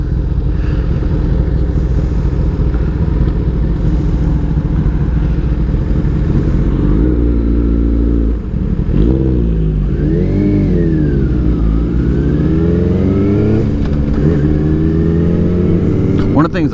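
A Kawasaki ZX-10R and a Yamaha R6 ride together, engines droning loud and close. Revs climb and drop sharply at each gear change, with talk over the engine noise.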